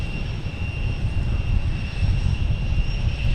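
An airplane at Boston Logan Airport, a Virgin flight taxiing, gives a steady, fairly loud low engine rumble and drone that holds evenly throughout with no talk over it.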